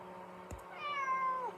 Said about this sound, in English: Come on, kitty kitty.